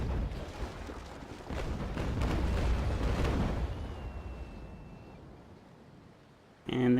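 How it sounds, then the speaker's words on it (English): A naval brig's cannons fire a double-shot broadside in a naval battle game, a rolling series of heavy booms that swell and then fade into rumbling decay, with a sharp new burst at the end. "firing off a full course of double shot against the Navy Brig"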